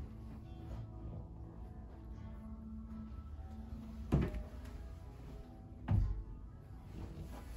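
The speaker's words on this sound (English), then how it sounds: "Here we have a double door closet." Double closet doors in a newly built two-story KB Home in Spring, Texas, give two soft thuds a couple of seconds apart as they swing shut, heard fairly close over a quiet room hum with no talking.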